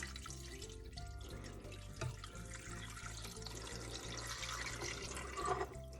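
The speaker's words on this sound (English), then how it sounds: "I fill it up with cold water to get every last bit of that spaghetti sauce, and I pour it into the Instant Pot down the sides" Cold water is poured down the sides of an Instant Pot, a continuous splashing trickle with small drips, close by and moderately quiet.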